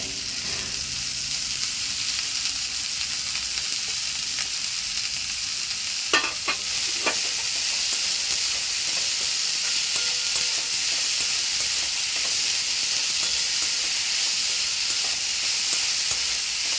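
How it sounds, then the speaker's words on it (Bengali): Boiled banana flower is stirred and fried in spices in a pan, giving a loud, steady sizzle with a brief clatter of the spoon partway through. "মোচা সিদ্ধটা দিয়ে একটু ভালো করে কষে নেব"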